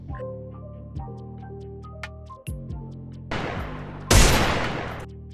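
Gunfire in the video game Free Fire: a few sharp single shots with ringing tails, followed by two loud, dense bursts of rapid fire close up.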